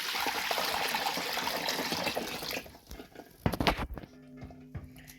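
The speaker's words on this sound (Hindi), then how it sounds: "और इसमें हम डालेंगे ठंडा पानी।" Cold water pours steadily from a tap into a large pot, a rushing hiss that stops abruptly, followed by a few clinks and a faint hum.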